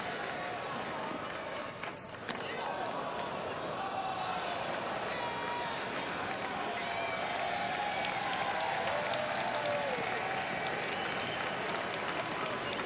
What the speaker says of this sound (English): That round of applause signifying the fact that everybody in the ballpark now has a souvenir baseball.